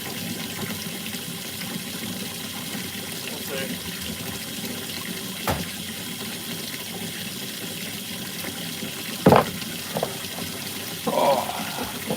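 Warm water runs from a tap for cleaning dug-up bottles, a steady broad rush throughout with brief clunks, while a person talks over it.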